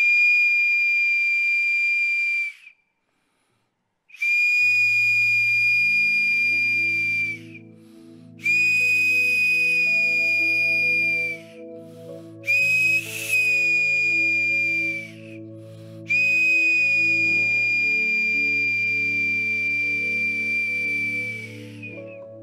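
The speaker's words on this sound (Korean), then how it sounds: "그래서 그 소리를 항상 기억하시라고 제가 호루라기를 갖고 왔습니다" A pastor blows a referee-style whistle in a church prayer service, giving several long, loud, steady shrill blasts separated by short gaps, with sustained organ or keyboard chords playing underneath.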